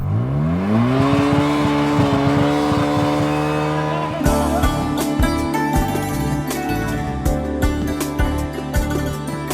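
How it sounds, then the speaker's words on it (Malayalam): Up close, a snow bike's engine climbs in pitch as it revs, then settles into a loud, rough drone with uneven bursts and rattles as the ride continues across the snow at Kongthur. "മാതൃഭൂമി യാത്രയും സ്നോ ബൈക്കിൽ ഒരു സഞ്ചാരം നടത്തുകയാണ്."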